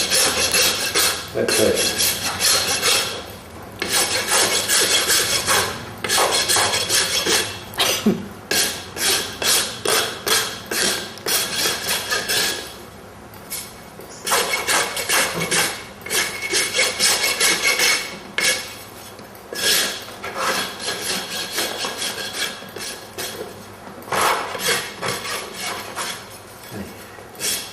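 A farrier's rasp works a horse's hoof wall at the toe, giving loud, repeated scraping strokes in steady bursts with short pauses, and a voice is briefly heard.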